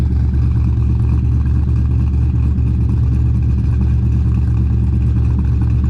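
A Nissan 240 engine rumbles steadily at idle around 1050 to 1070 rpm, its exhaust droning low and loud with no pauses or talking.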